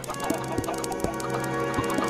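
Chickens clucking in the video game Minecraft: a handful of short, evenly spaced clucks ring out over a steady, droning background.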